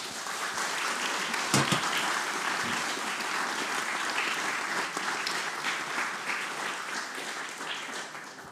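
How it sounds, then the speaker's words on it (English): An audience gives a round of applause for the speakers at a talk on political violence, with dense, steady clapping lasting the whole stretch at moderate volume and no speech over it. "maybe if we can have a round of applause for them as well"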